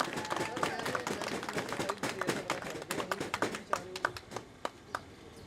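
Audience applause at a Barabri Party Pakistan members' convention in Lahore, with crisp, close individual claps ringing out over a crowd and then thinning to scattered sharp claps toward the end.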